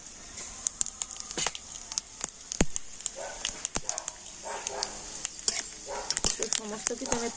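Bay leaves, dried red chillies, whole garam masala and cumin seeds fry in hot oil, giving a soft, continuous sizzle with scattered crackles and pops. A person speaks quietly over the cooking.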